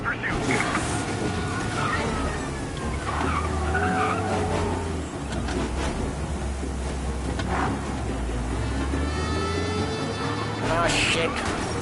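Tires skid and squeal under a roaring car engine during a police chase in a PS4 driving game, the screech sustained and loud throughout, with voices talking over it.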